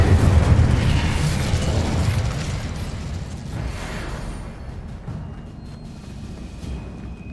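An Incendio fire spell is cast in the game Hogwarts Legacy, a loud, close fiery burst and roaring whoosh that slowly fades into a crackling rumble.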